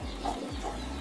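Chickens cluck softly at a distance behind a steady wash of flowing water from a submersible Yamano WP 105 hydroponic pump, with a few short clucks spread across the second.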